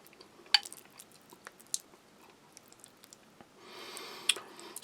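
Soft, wet chewing of MRE beef goulash with rice and carrots, close to the ear, with scattered small clicks and squishes and a brief rustle near the end, no talking.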